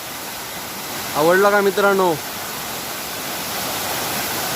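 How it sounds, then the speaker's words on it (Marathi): Shivdav waterfall near Kankavli roars with a constant broadband rush of falling water. Someone speaks briefly over the roar. "हा बघा, शिवडावचा धबधबा"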